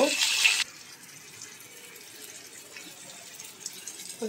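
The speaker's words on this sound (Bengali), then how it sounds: "একটু গরম পানি দিচ্ছি" Hot water is poured into a cooking pot of fried onions and spices in a brief, loud gushing splash at the start, followed by near silence with faint kitchen clatter.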